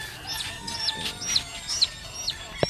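A fighting rooster and other fowl give short clucks and squawks, repeated irregularly and fairly close, over a low background murmur with no speech.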